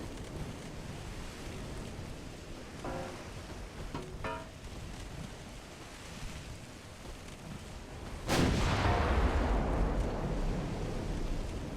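Warship main guns fire in Ultimate Admiral Dreadnoughts, a single heavy, booming blast that breaks a low, rumbling battle ambience and leaves a roaring, rolling tail afterward.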